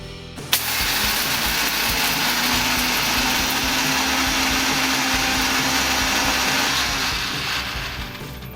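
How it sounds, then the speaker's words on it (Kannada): A mixer grinder grinding roasted gram into flour whirs loudly and steadily for several seconds after an abrupt start, a dense motor roar that eases slightly near the end. "ಈಗ ಒಂದು ಮಿಕ್ಸಿ ಜಾರಿಗೆ ಒಂದು ಕಪ್ ಪುಟಾಣಿ ಹಾಕಿ ಸಣ್ಣಗಾಗೋರಿಗೆ ರುಬ್ಬಿಕೊಳ್ಳಿ"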